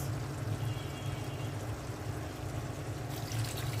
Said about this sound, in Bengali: পানি